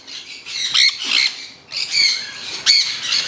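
Several birds squawking close by in harsh, repeated bursts, loud and overlapping with short pauses between calls.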